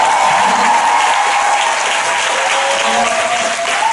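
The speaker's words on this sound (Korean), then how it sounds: "박수 좀 크게 쳐주세요" Loud, sustained applause fills a lecture hall during a business seminar talk, a dense unbroken wash of clapping at constant volume with a faint tonal hum beneath.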